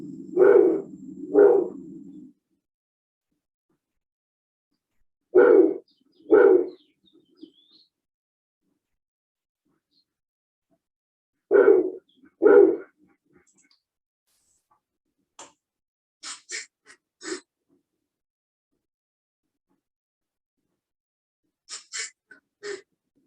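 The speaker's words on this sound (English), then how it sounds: "there are some sound recordings for snowies" Paired low hooting calls of a snowy owl repeat at intervals against silence, followed later by a few thin, high chirps; distinct and fairly close.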